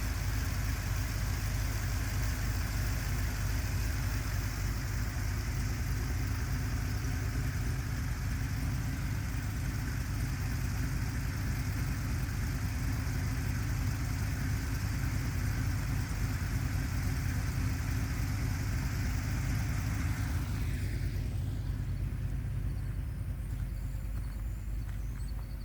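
A Camaro fitted with an LS V8 idles steadily and close by, a deep continuous rumble with a faint rhythmic lope, then the sound thins slightly near the end.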